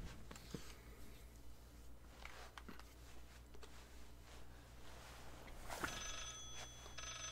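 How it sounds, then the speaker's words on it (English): A telephone rings inside the Layers of Fear horror video game, a steady high-pitched tone amid a dark ambient hum, with a sharper burst near the end. "at least it sounds like the phone's close this time"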